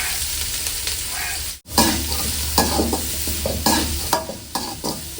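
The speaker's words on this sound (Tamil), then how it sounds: "எண்ணெயில் இப்படி போட்டோன்னா பட பட பட பட பட படன்னு ஐயோ பாரு வெங்காயம் போட்டுக்கிறேன் பாருங்க" Cut onions sizzle and crackle in hot oil while being stirred for a spicy goat head curry, a loud, continuous frying hiss broken by a brief cut and repeated scraping stirs.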